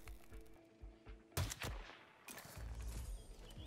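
Sniper rifle shots in Hitman 3, with two sharp loud blasts followed by echoing rumble and a lingering low tail over ambient game background.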